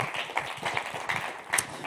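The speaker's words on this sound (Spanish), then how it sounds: "dale fuerte ese aplauso al Señor" Church congregation applause during a Christian sermon in Murcia, a rhythmic patter of many hands heard faint and somewhat distant for a couple of seconds.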